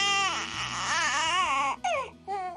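A baby cries with tired, yawn-like wails, a loud close cry rising and falling before breaking into two shorter whimpering bursts.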